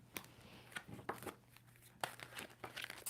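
A deck of tarot cards is shuffled by hand in a quiet room, making a few soft, crisp riffles and papery rustles spaced about a second apart.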